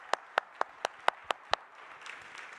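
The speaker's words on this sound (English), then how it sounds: "Please take your applause." Sharp, evenly spaced claps, about seven of them, ring out from an audience at an international family planning and reproductive health conference, then give way to a low murmur with no voices standing out.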